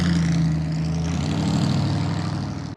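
A Model A Ford fitted with a 289 cubic inch V8 roars loudly and close during a burnout, its deep engine drone shifting pitch midway before cutting off sharply at the end.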